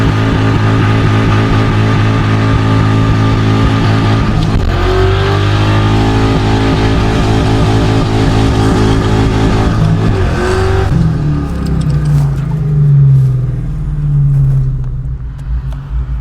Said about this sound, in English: Little no lift shift action for you, 7K RPMs.